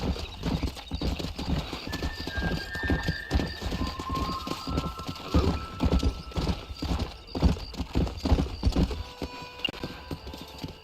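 Horse riding in the Red Dead Redemption video game: rhythmic clip-clop of hooves at a steady gallop, with whinnies and neighs, game voices talking over the hoofbeats, and a brief whistle-like tone partway through.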